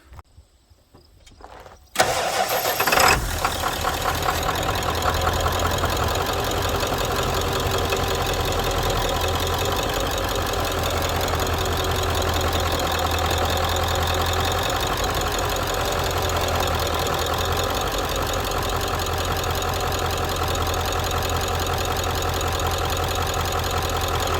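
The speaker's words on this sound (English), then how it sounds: "Let's fire up the truck and do a lock to lock and make sure everything's good." A truck engine cranks and fires up after a brief quiet moment, then settles into a steady, loud, close idle that runs on evenly with a faint knocking rumble.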